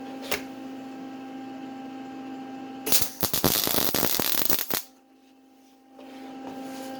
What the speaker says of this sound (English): So I'll finish tacking these all on, and then I'll go around and weld them complete.